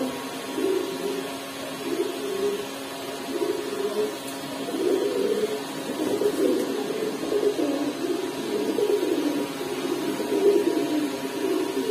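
Pigeons coo again and again at a Bangladeshi pigeon market where Bombai, Kaldom and Chila breeds are sold, the soft throaty calls overlapping in an uneven rhythm above a constant low hum.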